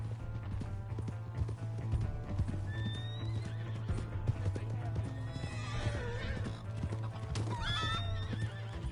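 Hooves clip-clop and a horse whinnies amid a busy Red Dead Redemption II soundscape with background music and effects, with voices talking.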